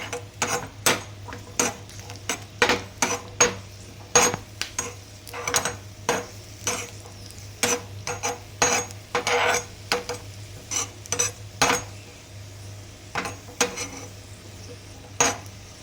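A spoon scrapes and taps against a pan while ingredients for semiya kheer are fried and stirred over a stove, irregular metallic clinks repeating over a faint steady hum.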